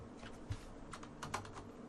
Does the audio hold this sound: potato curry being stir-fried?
no